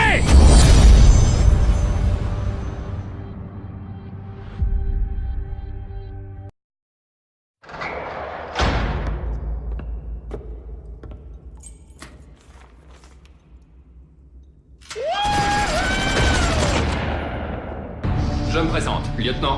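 Heavy gunfire and booming blasts from a war film battle scene, loud and dense at the start, then scattered shots and impacts after a brief silence, with shouted voices heard over the din.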